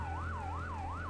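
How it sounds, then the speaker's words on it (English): Fire truck siren from the video game Firefighting Simulator The Squad, a loud wailing tone sweeping up and down about three times over a steady engine hum, with no talking. "I'm going to turn the siren off because that is loud"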